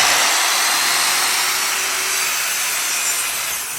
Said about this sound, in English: I'm pulling the saw towards me, then I'm gonna cut back into my lumber.